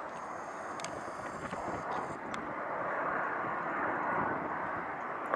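An airplane taxiing at Hartsfield airport gives a steady, broad rumbling roar that builds slightly over the seconds, with faint high whining tones near the start.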